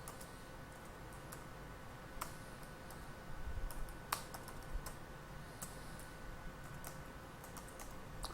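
Sparse clicks of computer keyboard keys being typed, faint and intermittent over a steady low hum, with no voices.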